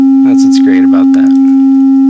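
A synthesizer holds a steady, pure sine wave tone at constant loud volume while a person talks over it.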